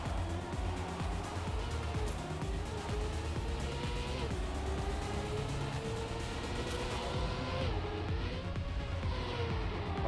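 A car drifts in Trackmania, with a continuous engine drone and sliding tire whine rising and falling steadily throughout, fairly faint.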